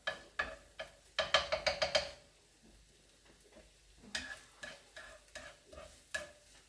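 Rice vermicelli being cooked in a large frying pan, heard as a series of sharp clicking, scraping stirs against the pan in short bursts with a quiet gap in the middle. A faint sizzle sits beneath.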